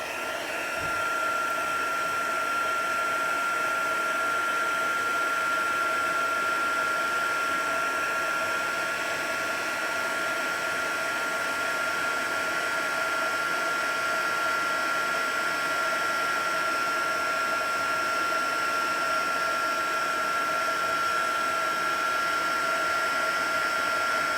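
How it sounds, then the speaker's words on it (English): A heat gun blows steadily to melt clear embossing powder for stamping, a constant close whirring hiss of hot air with a fixed motor whine and no break. "Heat gun, heat tool, I think it's called now."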